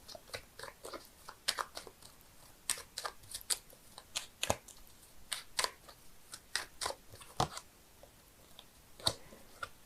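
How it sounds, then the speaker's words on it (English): Quick papery riffles and soft card snaps from shuffled tarot cards come in bursts, close and fairly quiet, with short pauses between the shuffles. "I'm shuffling the cards here"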